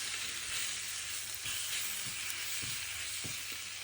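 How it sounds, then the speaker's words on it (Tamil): Chilli powder and coconut milk powder roast in a pan with a soft, steady sizzle and hiss, punctuated by a few light stirring scrapes. "இந்த மிளகாத்தூள் இதை ஒரு நிமிஷம் இந்த சட்டியில் வாட்டுற மாதிரி இருக்கணும்"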